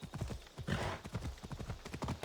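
Horse hooves clip-clop steadily at a trot in Assassin's Creed Odyssey, a quick close rhythm of thuds running through the whole stretch, with a brief whinny-like burst in the middle.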